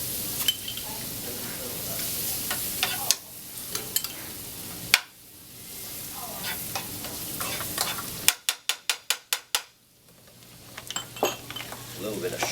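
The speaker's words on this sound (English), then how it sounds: "we're going to saute all this stuff together" Garlic sautéing in butter in a pan, a soft steady sizzle under irregular stirring and scraping, with a few abrupt cuts and a run of sharp rhythmic clicks partway through.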